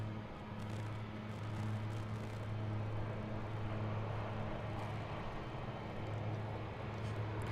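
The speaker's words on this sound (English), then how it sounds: "This is American Flight 116 arriving from Kahului, Maui." American Airlines jet arriving at DFW airport, a steady low engine drone with a sustained hum and broadband rush that holds at constant loudness throughout, no voices.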